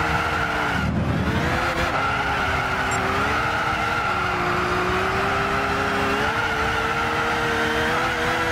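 Race car engine in Gran Turismo 6 on a rain-soaked track, steady high revs droning with shifting pitch as it slows under braking, a brief rumble and tire scrub near the start, loud and continuous with no talk.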